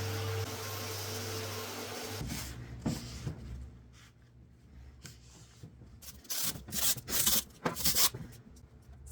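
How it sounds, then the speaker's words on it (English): A sander buffing finish into a wooden bench produces a low hum at first. Then come soft, uneven rubbing and scuffing strokes with bursts of brighter friction noise, close but fairly quiet. "I buff it in with the sander"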